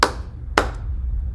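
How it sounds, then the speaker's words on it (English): Two sharp hand claps sound about half a second apart, close and crisp, each ringing briefly in a quiet room with no talking. "clap your hands"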